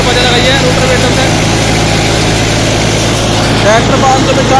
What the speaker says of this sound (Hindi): ट्रैक्टर 595 टर्बो 50 वाला ट्रैक्टर है पहले के लोग में चल रहा चक्कर 1700 आरपीएम